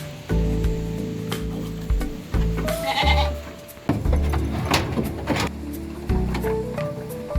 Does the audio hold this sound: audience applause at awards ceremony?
no